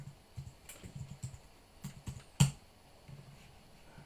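Soft, sparse typing on a computer keyboard, with scattered light key clicks in short bursts and one sharper tap partway through, close and quiet with no talk.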